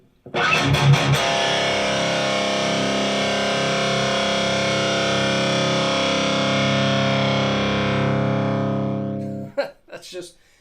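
A single heavily distorted electric guitar strum through a Randall Diavlo amp and Mooer 001 preamp pedal rings out loud and sustained for several seconds, preceded by quick muted picking and followed by a few string noises.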